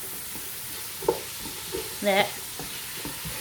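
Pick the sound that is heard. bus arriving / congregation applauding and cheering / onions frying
onions frying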